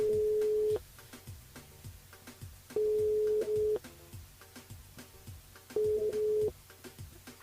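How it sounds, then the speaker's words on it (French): Ringback tone of an outgoing phone call to a radio show caller, three steady beeps of about a second each, spaced two to three seconds apart, with faint rhythmic music playing underneath. "on appelle Léa du côté de Trois-Bassins"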